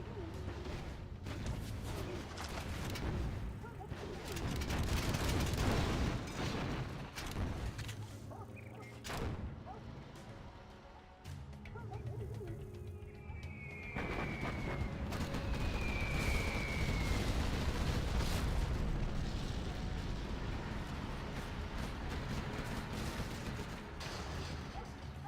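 Artillery shelling a main supply dock in C&C Generals Zero Hour, a dense wash of repeated heavy booms and rumbling blasts that runs continuously, loud and layered, with no clear gaps between impacts.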